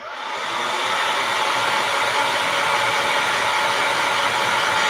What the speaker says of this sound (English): I'm going to dry it a little bit more